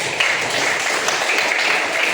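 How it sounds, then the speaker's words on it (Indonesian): Classroom applause for a student named Nadira, a steady patter of many hands clapping for about two seconds, moderately near and even in level, with no voices over it. "Berikan tepuk tangan dulu dong."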